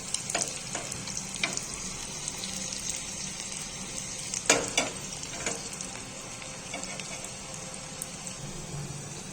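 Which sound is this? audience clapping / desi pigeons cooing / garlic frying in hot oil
garlic frying in hot oil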